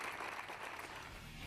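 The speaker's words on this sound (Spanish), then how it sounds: "Con un aplauso se despide a la 5ª víctima por violencia de género en menos de una semana." Applause from a crowd in Sanlúcar bidding farewell to a victim of gender violence, a dense, steady wash of clapping heard alone for a moment.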